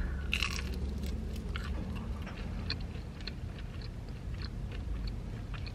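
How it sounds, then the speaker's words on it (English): Crunchy mini tacos from 7-Eleven being bitten and chewed up close, a sharp crunch at the start followed by steady crackling chews, with no talking. "let's try these little mini tacos"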